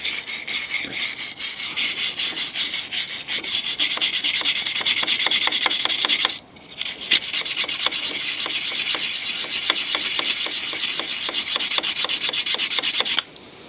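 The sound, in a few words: wire brush scrubbing Land Rover Series 3 part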